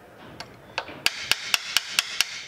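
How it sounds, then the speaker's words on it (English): Sharp metallic hammer blows hit the steering stem of a Honda CB500X Rally Raid Adventure motorcycle, seating the tapered bearings: two lighter taps, then six evenly spaced, ringing strikes up close. "Let's give it a couple of whacks with the hammer."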